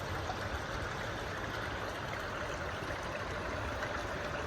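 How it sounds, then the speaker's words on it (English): A small stream trickles down toward a large river beside a forest trail heading to Harpers Ferry, giving a steady, soft, even wash of flowing water with no voices over it. "and it just trickles on down, feeding the mighty river."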